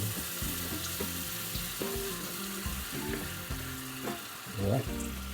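Dish frying in a pan while being stirred, with steady sizzling and repeated scraping, knocking stirs throughout, fairly close and with no voices.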